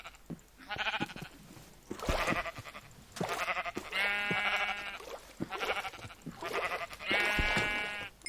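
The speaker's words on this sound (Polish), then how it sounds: "No, niewdzięczna owca." Sheep in the Minecraft video game bleat repeatedly, several wavering, buzzy calls in an uneven series at moderate volume, with no talking over them.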